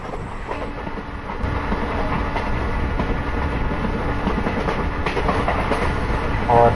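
A simulated ICF Jan Shatabdi passenger train on Indian Railways runs at high speed in the morning, with a steady loud rumble and rhythmic clickety-clack of wheels on rail joints throughout.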